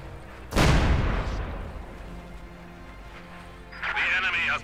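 Light artillery fires in Company of Heroes 2, one heavy booming blast followed by a rumbling decay, with game sounds and a commentator's voice running underneath.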